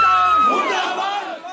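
A large crowd of mourners gathered in a Kotdwar village for the funeral procession of martyred soldier Swatantra Singh raise a loud collective cry, voices swelling and shouting together, then fading slightly.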